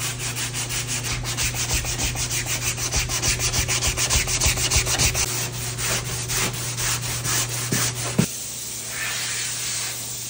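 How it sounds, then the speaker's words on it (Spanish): Close, rhythmic back-and-forth sanding with 80-grit sandpaper on a car body, strokes fast and even, ending abruptly with a tap before a quieter hiss. "A pura braseada con una lija 80."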